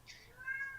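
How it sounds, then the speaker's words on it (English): A cat gives a short, faint meow, brief and somewhat distant over a quiet background. "I get attacked by a cat."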